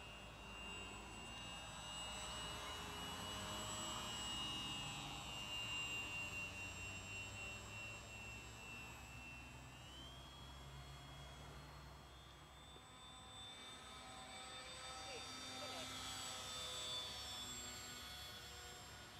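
A small airplane flies past at an airfield, its steady engine drone rising and falling in a long sustained pass that stays fairly loud throughout, with no talk over it.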